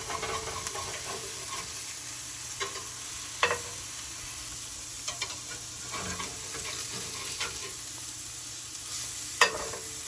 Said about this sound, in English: You hear them sizzling like crazy.